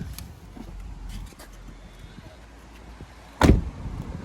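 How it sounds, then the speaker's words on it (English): A car door shuts with a single loud thump near the end, after a stretch of faint rummaging and handling noise inside a vehicle fitted with a 10-inch and 6.5-inch front door speaker pod. "Door closes, door opens."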